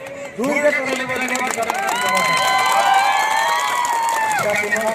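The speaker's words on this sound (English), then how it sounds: "I request all of you to give them a big applause" A crowd at the Inter Karbi Anglong women's football championship in Hanjanglangso cheers with loud, sustained overlapping voices and high calls, building steadily over five seconds.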